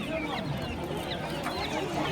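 Andijan black chickens and chicks clucking steadily at a busy poultry market, with overlapping clucks and cheeps over dense crowd noise and nearby talking.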